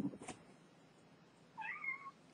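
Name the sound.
cat meowing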